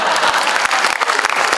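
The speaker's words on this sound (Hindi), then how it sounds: "बजाओ जरा मिलके एक ताली" An audience at a Hindi Diwas orientation programme claps together, a fairly loud burst of applause with individual sharp claps standing out irregularly over the crowd's noise.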